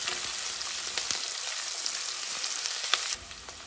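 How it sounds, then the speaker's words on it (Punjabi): Onions frying lightly in a pan for soya chunk biryani, a steady broadband sizzle with faint scrapes and one sharp tick near the end, then settling a little quieter. "ਪਿਆਜ਼ਾਂ ਨੂੰ ਅਸੀਂ ਜ਼ਿਆਦਾ ਨਹੀਂ ਭੁੰਨਣਾ, ਹਲਕਾ ਜਿਹਾ ਬਸ ਗੁਲਾਬੀ ਰੰਗ ਦਾ ਕਰਨਾ।"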